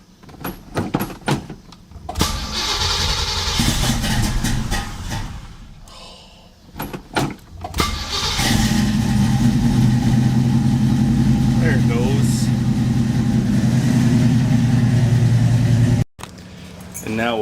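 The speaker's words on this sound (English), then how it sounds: "now we'll film the little car coming in" A small Crosley car's engine runs and pulls in close by, a loud, steady low drone that holds for several seconds, after a stretch of bumps and knocks at the start.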